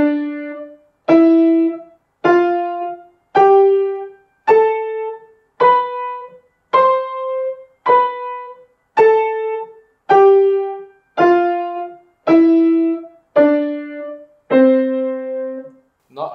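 Heavy, strong legato piano notes, about fourteen evenly spaced single tones each sustained and fading before the next, played alone and clearly close up.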